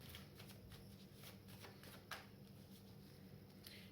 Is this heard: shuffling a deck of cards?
yes